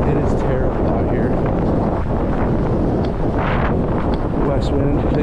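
Strong, steady west wind buffets the microphone out on open ice during ice fishing for steelhead, a loud continuous rumbling roar with gusty swells throughout.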